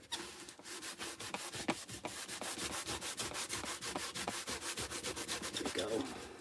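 Wax block rubbed back and forth on a vintage wooden box, a steady series of quick, close scraping strokes running without pause and with no talking.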